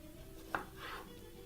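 A knife slices an onion thinly into half-moon shapes on a board, one sharp chop followed by a softer slicing stroke, close and quiet.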